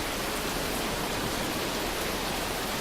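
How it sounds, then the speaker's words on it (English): Heavy storm rain pours down steadily and loudly as a dense, continuous wash of hiss and roar with no breaks and no voices. "Wow, this rain is really, really bad."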